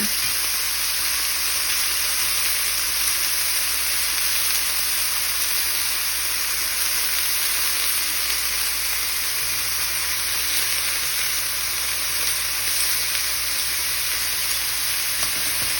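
Beef stew meat sears in a hot pan, giving a loud, dense, unbroken sizzle like heavy rain that holds steady throughout, with no voices.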